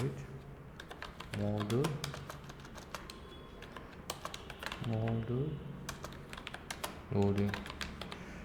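A computer keyboard clatters with quick, close, uneven keystrokes during coding work, running throughout while a person speaks intermittently over it.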